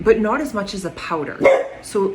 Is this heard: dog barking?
yes